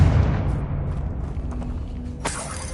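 A Confringo fire spell explodes in Hogwarts Legacy, a loud booming blast with a low rumble, followed near the end by a sharp crackling burst over continuous game ambience.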